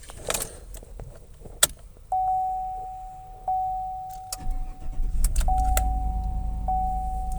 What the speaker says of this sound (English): Okay, we have started the vehicle.